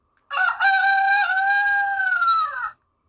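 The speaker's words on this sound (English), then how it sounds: "Rooster." Synthesized rooster crow played by a Hornit Mini horn for bikes and scooters, a single loud cock-a-doodle-doo of around two and a half seconds with a rising then falling contour, ending cleanly.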